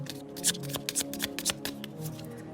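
Tarot cards being shuffled close up, a quick run of crisp riffling flutters and soft slaps in an irregular rhythm, quiet and alone.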